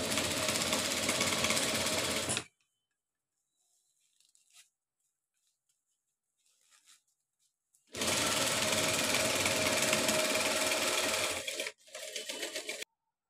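A sewing machine stitches a foam-filled bag handle in two loud, steady bursts of rapid mechanical chatter separated by a quiet pause, with a short stutter near the end of the second run.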